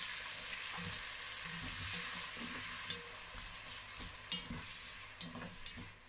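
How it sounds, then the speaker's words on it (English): Chopped tomato and onion fry in a pan for croaker in tomato sauce, a soft steady sizzle broken by a few scraping stir strokes, quiet and close, with no voices. "So now I'm going to add my tomato and onion."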